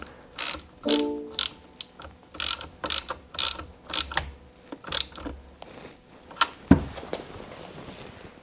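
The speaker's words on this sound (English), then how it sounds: "use our 10 millimeter in order to tighten it down" A ratchet wrench tightens a 10 mm terminal on the 12-volt battery of a BMW i8. Close, loud bursts of rapid ratcheting clicks repeat in short strokes with brief pauses between them, and no talking is heard.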